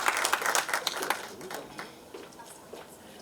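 An audience at a film trailer launch event applauds as an actress comes on stage, a lively burst of clapping that fades into softer scattered claps, with voices over it.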